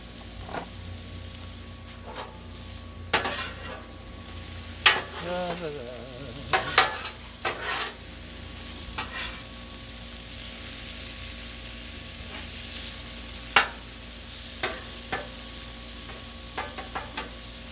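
Cheesesteak meat fries on a Blackstone griddle with a constant, close sizzle. Metal spatula scrapes and clacks land at irregular intervals over the hiss, and nobody speaks.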